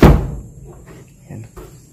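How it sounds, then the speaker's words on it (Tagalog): A door is pushed shut in an abandoned Spanish-era house, one close, loud thud at the start that fades into a quiet, hollow room, followed by a few faint knocks and creaks. "Sasara natin itong pinto guys."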